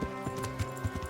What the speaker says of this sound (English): So Sir Hans Capon is on the horse in front of us